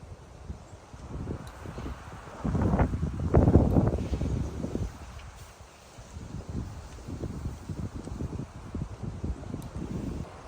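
Strong gusty wind blows through a vegetable garden planted with onions, buffeting the microphone with low roaring rumbles that swell loudest in the middle, then settle into steady rustling gusts.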